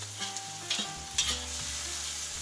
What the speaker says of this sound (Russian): Теперь берем чесночок, добавляем чесночок. И также все хорошенечко перемешиваем.